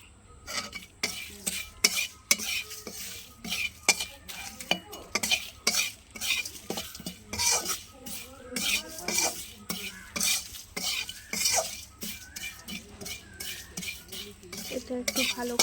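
Bay leaf, dried chilli, cumin, fennel seeds and salt are stirred in a wok over low heat while making a raw mango pickle. A spoon scrapes and clinks against the metal again and again, with a light sizzle underneath.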